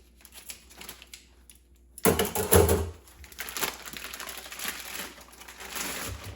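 A beef chuck roll pulled from its plastic packaging: quiet rustling at first, then a sudden loud burst of crinkling and tearing plastic that continues in uneven crackles, close by.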